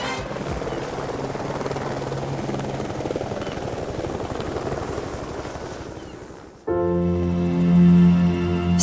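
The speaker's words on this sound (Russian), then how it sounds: "Ведь для этого нужно арендовать вертолет" A helicopter's rotor thumps steadily and loudly on a flight over the Amalfi Coast, Italy, then cuts to a closer, louder engine whine with a sustained low hum.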